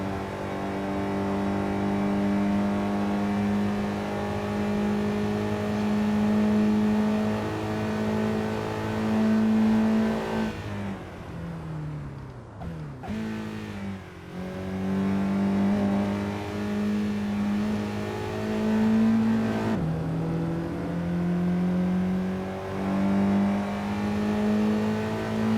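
Honda Fit (Jazz) economy hatchback engine revving hard on the Monza race track, a loud sustained close-up drone that climbs in pitch, drops briefly through shifts and braking around the middle, then pulls up again.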